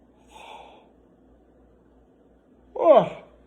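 A person gives a close, breathy yawn with a rising then falling voiced groan, following a softer earlier exhale, otherwise quiet.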